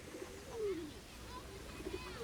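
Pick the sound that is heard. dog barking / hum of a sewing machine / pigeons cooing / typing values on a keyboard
pigeons cooing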